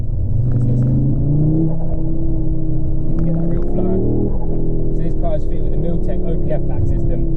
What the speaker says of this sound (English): So pretty much all the noise that you can get from the intake and exhaust at the moment on these cars